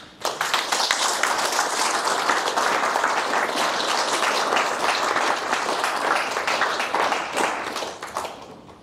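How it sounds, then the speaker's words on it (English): Steady, full audience applause follows a conference talk about an industrial IoT cloud project, continuous clapping for about nine seconds that fades at the end. "thank you very much for that applause"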